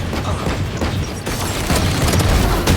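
A grenade going off during a Valorant match, a loud booming blast blended with dense mechanical clatter and gunfire-like pops, continuous and close throughout with no quiet gaps.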